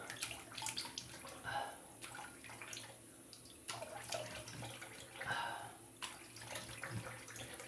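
Water splashes and trickles in a bathroom sink as a razor and face are rinsed after shaving, with intermittent faint splashes and running-water bursts, quiet and close.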